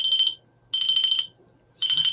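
A homemade REM pod gives three loud, piercing electronic beeps, each lasting about half a second and separated by short quiet gaps, sounding close.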